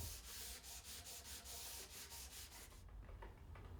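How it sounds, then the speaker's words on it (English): Drainer grooves in Mirostone solid surface are sanded by hand, a close rhythmic rasp of repeated back-and-forth strokes that quickens and lightens toward the end. "Once finished, remove the jig and sand each groove by hand."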